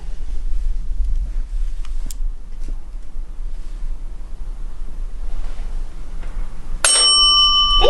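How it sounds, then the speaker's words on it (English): Bell device used in a paranormal investigation aboard the USS Batfish submarine, ringing sharply and briefly near the end over steady low wind-like background noise. "All right, I turned the bell back on for you."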